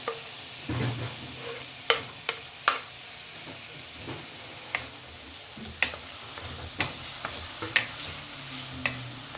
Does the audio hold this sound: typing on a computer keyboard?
no